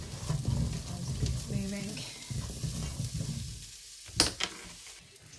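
Sliced onion and crushed garlic sizzle steadily in a hot pan while being stirred, a close, continuous frying hiss with a few scraping knocks and a brief spoken word.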